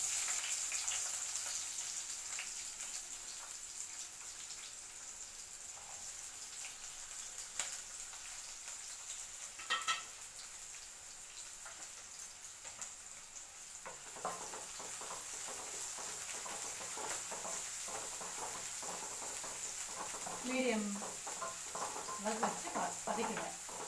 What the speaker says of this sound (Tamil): கடாய் சூடாயிடுச்சுங்க சிம்மில் வச்சுட்டு முதல்ல வெங்காயம் போட்டு வதக்கிடலாம்